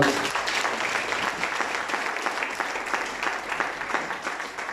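A church congregation applauding during a sermon, a dense, steady wash of many hands clapping in a reverberant hall, loud and sustained throughout with no speech over it.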